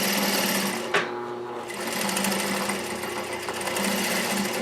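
Juki DDL 8300 N industrial sewing machine running at high speed, a steady close buzzing hum of stitching with one brief clack near the start, continuous and alone.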